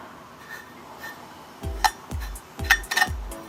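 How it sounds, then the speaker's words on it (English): A whisk stirs cake flour, sugar, baking soda and salt in a bowl, starting with soft rustling and then four quick metallic knocks against the bowl, close and crisp. "I give my dry ingredients a quick whisk"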